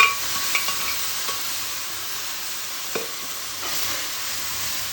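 Cooked mutton sizzles steadily in hot oil with curry leaves. The frying hiss is constant, with a few soft stirring clinks and taps.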